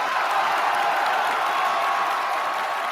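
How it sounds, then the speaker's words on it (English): Dense applause and crowd noise fill the whole short stretch, an even wash of many hands clapping with faint cheering mixed in. "Round of applause. In fact, standing ovation for our podcast listeners."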